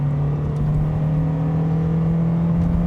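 Honda Prelude engine with a 4-speed automatic revs steadily under acceleration, a loud, sustained drone whose pitch climbs slightly across the stretch, with no talk over it.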